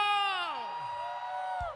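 A crowd at the El Shaddai Walk of Faith 2024 religious gathering lets out a loud, sustained whoop and shout, a single swelling cheer of many voices that holds steady across the moment.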